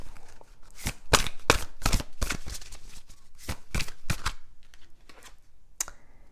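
Tarot cards shuffled and dealt by hand, a run of crisp riffling slaps and snaps in quick bursts, close and clear, with quieter card handling near the end.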